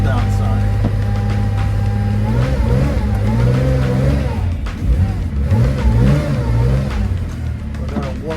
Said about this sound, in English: Let's do our morning cold start.